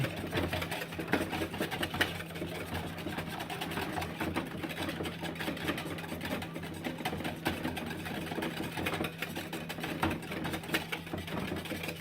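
Hollandaise sauce for eggs benedict is whisked in a bowl over heat, making a rapid, even, mechanical-sounding rattle that runs steadily and fairly quietly without pause.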